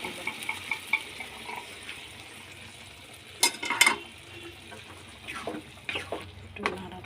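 Dal lentils frying in a pan, a low steady sizzle broken by a few sharp stirring clatters and scrapes, close but fairly quiet.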